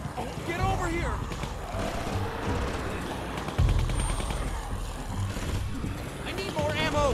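Gunfire crackles through a zombie-apocalypse scene in The Walking Dead Season 2 video game, with shots and bursts mixed under raised voices and shouting across the whole stretch.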